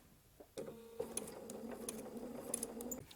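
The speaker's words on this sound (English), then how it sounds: "Take the pin out and do about 2 stitches." A sewing machine stitching fabric along a curved edge, a quiet close-up mechanical whir with a steady humming drone for about two and a half seconds after a short start, punctuated by faint clicks.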